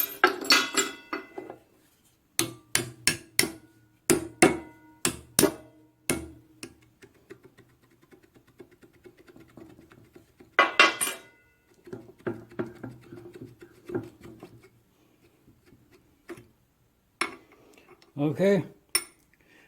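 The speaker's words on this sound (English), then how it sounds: "That right there is how you get a broken off gib key extracted from the flywheel crankshaft assembly" Metallic tapping and clinking from work extracting a broken gib key from a hit-and-miss engine's flywheel and crankshaft assembly: bursts of sharp close strikes in uneven runs with pauses, plus a brief spoken word.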